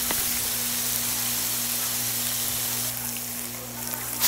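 Salted black beans sizzle in a hot pan for a Filipino humba, a steady soft crackling fry with a low hum beneath, fairly quiet and continuous.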